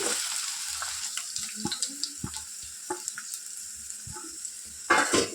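Three medium chopped onions frying in hot oil for an egg curry: a close, soft sizzle with scattered crackles and pops throughout, swelling into a louder hiss near the end, with no talking.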